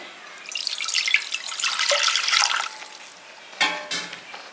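Water splashes and pours into a metal pan for a couple of seconds, followed by a shorter second splash. It is close and fairly loud.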